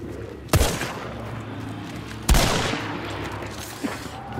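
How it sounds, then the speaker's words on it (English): Loud gunshots in the game Hunt: Showdown during a fight at Blanchett Graves: two heavy, sharp reports about two seconds apart with echoing tails, then a fainter distant shot. "Where's that other shot coming from?"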